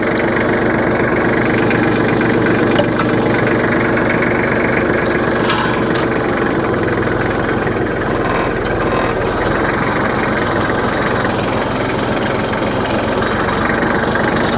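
A tractor engine runs steadily at low RPM in high range first gear while tedding hay, a loud, close, continuous knocking drone with a constant rhythm and no talking over it.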